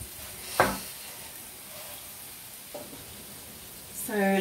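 Potato chips fry in coconut oil for poutine with a faint, steady sizzle. A sharp clatter comes early, a softer knock follows midway, and a short voice is heard near the end.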